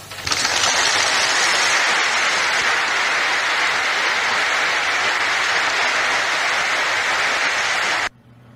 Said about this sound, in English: It just seems to be the people sitting behind him that are clapping.